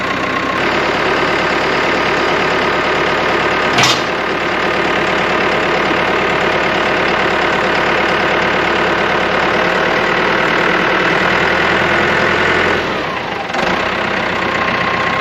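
A heavy tractor engine under load drones loudly and continuously with a rough, knocking rumble, holding steady for the whole stretch with only a brief dip near the end.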